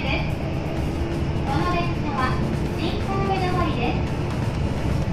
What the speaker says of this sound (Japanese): 列車は三宮駅を発車。